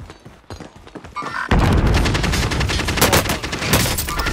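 Video game gunfire erupts in a dense, loud fusillade of rapid automatic shots after a few scattered, quieter shots, with no voices over it.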